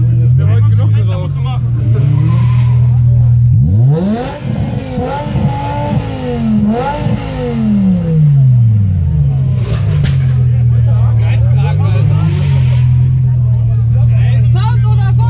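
A Mercedes C63 AMG and a BMW M5 do a burnout at a Carfreitag car meet in Paderborn, the engine revving hard and sweeping up and down with loud crowd chatter around it.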